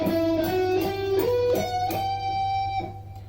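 A guitar plays a quick line of picked notes on a six-string, with clear rising and shifting pitches, moderately loud and alone over a faint steady hum.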